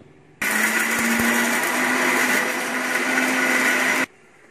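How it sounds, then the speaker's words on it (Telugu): Mixer grinder coarsely pulsing raw cucumber chutney with tamarind, salt and tempered spices, a loud steady whirring motor running for about four seconds between quiet pauses. "బాగా మెత్తగా ఆడుకోకూడదు, బాగోదు. కచ్చపిచ్చ ఆడుకున్నాం"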